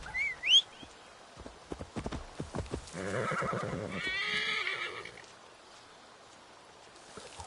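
Horse whinnies and clip-clopping hooves in the Assassin's Creed Valhalla video game, Wrath of the Druids expansion: a sharp neigh near the start, scattered hoof knocks, then a louder sustained whinny in the middle.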